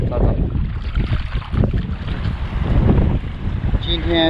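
Strong wind buffets the microphone on a seashore as waves begin to rise, producing a loud, constant low roar and rumble throughout with no clear break.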